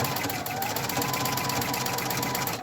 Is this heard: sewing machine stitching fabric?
yes